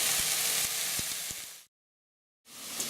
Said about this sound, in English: Okay, we are sizzling.